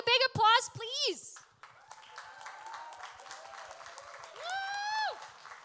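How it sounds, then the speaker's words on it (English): At a fan convention cosplay show, an audience cheers with loud whoops and high-pitched shouts over a bed of lighter clapping, with a second burst of cheering rising near the end. "A big applause, please."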